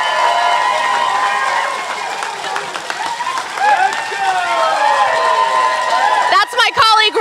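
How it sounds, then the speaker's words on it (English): A crowd on the New York Stock Exchange floor cheers and whoops in a sustained, bright roar, with shouted voices and a short burst of yelling near the end. "They have been cheering down here all morning, right in front of CNBC's set."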